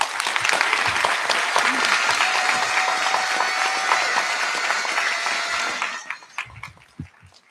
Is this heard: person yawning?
no